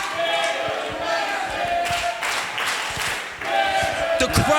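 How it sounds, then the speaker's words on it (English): Fiery crowd at a boxing event in Harold Hill cheering and clapping throughout, with loud surges of shouting and applause over a steady roar of many voices. "The crowd in Harrod Hill are proper fiery today, and we love to hear that."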